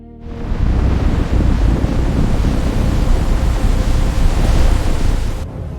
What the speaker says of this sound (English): He raised the heavy mantle high above his head and struck the water with incredible force.